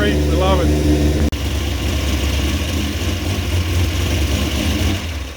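A rough-running Toyota 1JZ engine in a sleeper van idles loudly and unevenly up close, with a quick rev blip at the start and a steady, lumpy, throbbing drone after a brief dropout.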